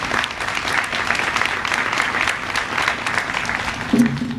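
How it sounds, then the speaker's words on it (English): An audience seated in a packed civic center auditorium at a signing day event breaks into loud, continuous applause, a dense wash of many hands clapping close by. "give yourselves a round of applause"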